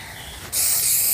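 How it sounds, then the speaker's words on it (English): A single short burst of spray paint on a DIY project, a sharp steady hiss that starts abruptly halfway through and continues to the end. "Quick spray."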